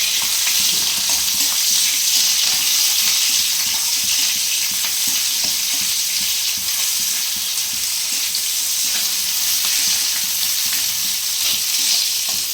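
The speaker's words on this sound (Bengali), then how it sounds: "পেঁয়াজ কুচিটা একদম লাল করে ভেজে নিতে হবে।" Chopped onions fry in a pan of oil with bay leaves, giving a loud, continuous close-up sizzle with a steady hiss and no talking.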